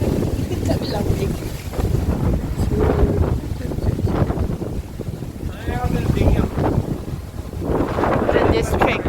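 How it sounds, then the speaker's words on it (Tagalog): Steady cold wind rushes and buffets the microphone in gusts in Melbourne, Australia, with water and boat noise underneath and occasional voices. "Malamig ang simoy ng hangin."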